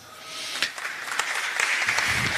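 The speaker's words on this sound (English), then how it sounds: "Please, let's clap for them." An audience claps steadily and fairly loudly at a film festival closing gala, the sound building into a dense patter after a brief start.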